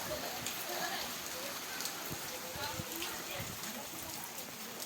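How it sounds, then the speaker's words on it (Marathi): Light drizzle falls outside in a rural village, a soft continuous hiss with scattered drips and taps, fairly distant and quiet. "बाहेर पावसाला सुरुवात झालेली आहे"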